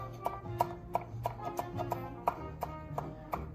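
A knife minces garlic on a cutting board in quick, evenly spaced chops, about a dozen sharp taps over a few seconds. They are close and moderately quiet, with no talking.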